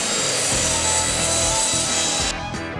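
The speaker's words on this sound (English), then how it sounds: "Now we can take it over to the saw and we can cut it to length." A saw cuts a hardwood board to length in a woodshop, giving a loud, steady, continuous grinding rasp that runs nearly the whole time and then drops away abruptly near the end.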